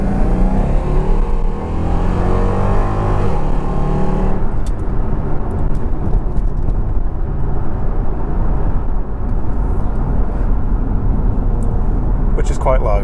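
A Jaguar XKR V8 with sports cats and exhaust valves open roars loudly and steadily under throttle, with a voice talking over the engine at the start before the exhaust fills the rest alone.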